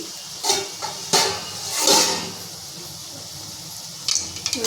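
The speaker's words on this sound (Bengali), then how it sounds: "দু মিনিট পর চাপা খুলছি" A metal pot lid is lifted off a pan after a couple of minutes of covered cooking, giving a few close clinks and clanks, then a soft hiss of steam and more light rattles.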